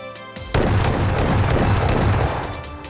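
A Saiga shotgun firing in the battle royale game PUBG, with a loud close blast followed by a sustained, rumbling volley that fades slightly toward the end.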